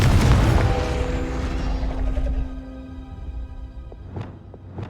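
A Confringo spell blast from Hogwarts Legacy goes off with a loud, deep boom that rumbles and fades over several seconds, and a few sharp magical swishes follow near the end.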